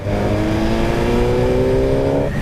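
A Suzuki GSX-R1000R sport motorcycle's loud, steady engine drone climbs smoothly in pitch as it accelerates in fourth gear from 3,000 rpm, close and continuous, then drops off abruptly at the end.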